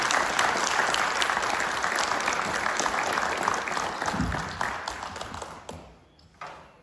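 An audience at a Masonic lodge gathering in the Gran Logia Valle de México applauds with dense, sustained clapping that gradually thins and fades away toward the end.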